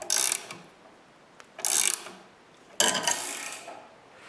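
A hand ratchet tightening nuts on threaded rods in a woodworking shop, three loud clicking bursts of rapid pawl ratcheting separated by brief pauses, close and alone.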